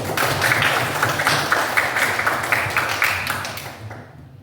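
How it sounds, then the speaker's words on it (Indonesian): A classroom of students applauding together after roll call, a dense, sustained clatter of many hands clapping nearby that fades out toward the end. "Kita kasih tepuk tangan dulu"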